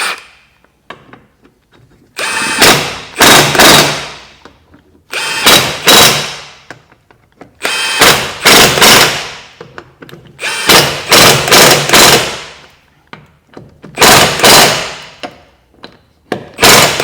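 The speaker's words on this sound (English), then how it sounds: "Blast the nuts in." Power tool on a Vauxhall Corsa C driving wheel nuts home in five loud, close bursts of whirring and rattling, each lasting about a second or two with short pauses between, no talking.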